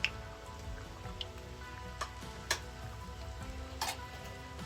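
Samosas with an elephant foot yam filling fry in hot oil, giving a steady soft sizzle broken by scattered pops and small bubbling crackles, close up and without talk.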